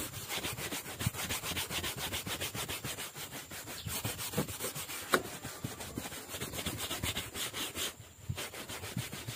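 A soft brush scrubs car interior fabric with quick rhythmic back-and-forth strokes, close and fairly quiet, each stroke a brief scratchy rub in a steady repeating pattern, no voices.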